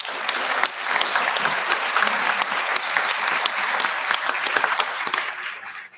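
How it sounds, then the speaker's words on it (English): A school board meeting audience gives a sustained round of applause for teachers receiving tenure, many hands clapping in a dense, even roar that stays strong throughout and drops off abruptly at the close. "How about one more round of applause?"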